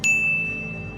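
A single bright notification bell ding rings out clearly at the start and then decays into a lingering tone over soft background music, with no one speaking.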